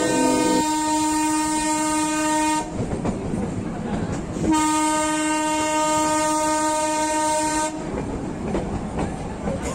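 A train on a scenic Indian rail route rumbles along over the tracks while its horn sounds twice in long, loud, sustained blasts, separated by a short gap of rolling wheel noise.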